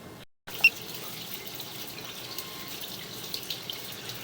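Water running into a drain line, a faint steady trickle and wash under a low background hiss, with a brief click near the start and a few small splashes later.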